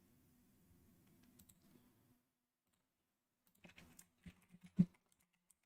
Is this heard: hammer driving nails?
no